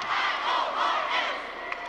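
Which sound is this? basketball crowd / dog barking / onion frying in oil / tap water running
basketball crowd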